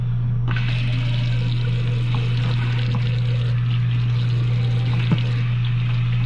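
Water pours steadily from a newly installed RV bathroom faucet into the sink, a continuous close splashing trickle over a low steady hum, with no talking.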